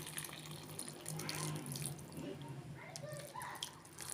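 Hot water being poured into a cooking pot of stuffed peppers, a steady close splashing pour lasting a few seconds with kitchen clatter.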